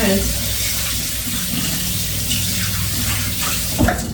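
Running tap water rinses out a half-cup measuring cup while making mayonnaise-based sauces in a home kitchen, a steady broadband rush lasting the whole moment with a brief clatter near the end.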